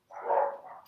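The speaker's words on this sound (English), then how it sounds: "I can still hear those dogs barking" A single short bark from a dog somewhere nearby, one brief muffled woof heard alone.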